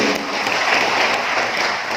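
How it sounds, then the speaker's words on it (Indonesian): Steady applause from an audience at a provincial government program launch in NTT, Indonesia, honoring Pak Victor: dense, continuous clapping at moderate loudness throughout, with no break. "Tepuk tangan saya kira buat beliau."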